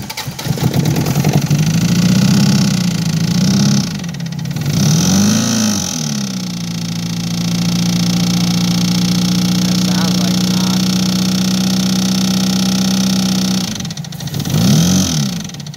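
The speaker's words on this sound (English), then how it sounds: "It's the engine." A 20v engine with a spun bearing runs and revs loudly up close, rising and falling, then settling into a steady drone before another short rev, with a metallic vibration under it.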